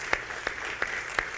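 Short burst of audience applause at a panel discussion on consumer rights, a few sharp distinct claps close together, thin and brief.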